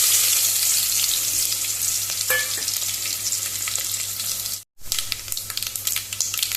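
Garlic, curry leaves, asafoetida and mustard seeds crackle in hot oil for a tempering, a constant bright sizzle with small pops that cuts out briefly before resuming just as strongly.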